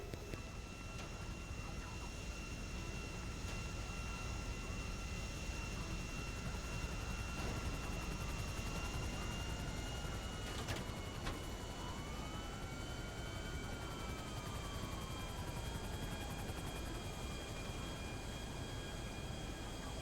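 Airplane in flight in the video game GTA 5, a steady engine drone with rising and falling whining tones, continuous and fairly quiet for the whole stretch.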